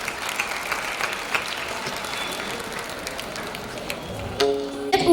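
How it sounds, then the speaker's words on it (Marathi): Audience clapping for a female performer at a Diwali morning music concert, a dense sustained round of applause from a crowd, steady for several seconds before a musical tone enters near the end. "तेव्हा एकदा जोरदार टाळ्या होऊन जाऊ देत सईसाठी"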